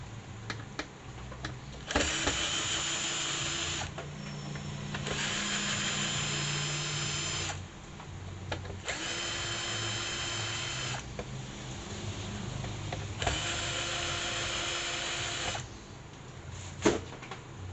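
Power drill or screwdriver backing screws out of the cover of an HP monitor under repair, several sustained whirring bursts of a few seconds each separated by short pauses, close and steady.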